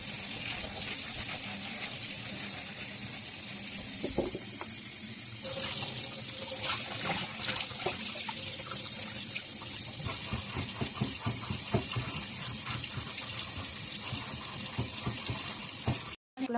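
Tap water runs steadily and gushes over a stone mortar and pestle being rinsed in a sink, a continuous close splashing stream with small knocks of stone, ending abruptly.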